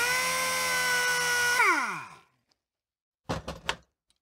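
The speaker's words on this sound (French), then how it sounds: "avec la dévisseuse" A power screwdriver works on a Suzuki motorcycle's front fork while its seals are replaced, whining steadily before its pitch swoops down as it stops, followed after a pause by a brief burst of clunks and rattles.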